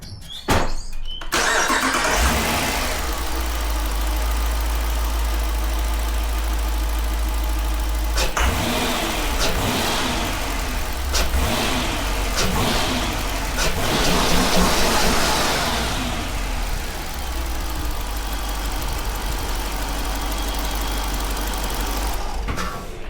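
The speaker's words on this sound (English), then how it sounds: "we're going to crank the car, give it some revs, and see what this intake actually sounds like" A stock-intake 2025 Dodge Durango R/T with a 6.4-litre engine idling loud and steady, with several revs rising and falling, each throttle blip clearly above the constant low rumble.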